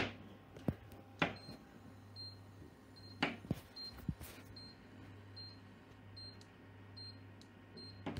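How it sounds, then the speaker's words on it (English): A kitchen oven beeps in a string of short, high-pitched beeps repeating steadily, mixed with a few louder clatters and knocks nearby, with no talk. "Don't worry, that's just our oven beeping."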